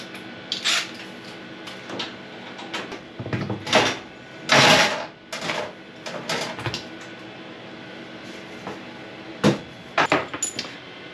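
Screws being taken out of the back panel of a Voyager tractor unit, heard as scattered near metallic clicks, scrapes and clunks in irregular bursts with quiet gaps between.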